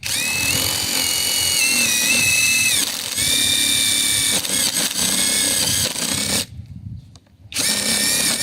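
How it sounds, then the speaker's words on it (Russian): A loud, close impact driver whines at high speed for several seconds, strains, stops briefly, then whirs up again, driving a screw into a dense birch block. "Крутим в березовую колодку."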